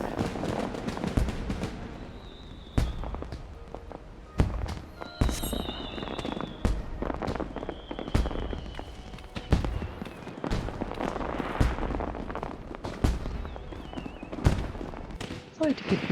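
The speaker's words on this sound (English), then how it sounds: "The fireworks are very loud." Loud fireworks in the video game Final Fantasy XIV, a dense run of sharp cracks and bangs at irregular intervals with fizzing whistles between them, going on throughout.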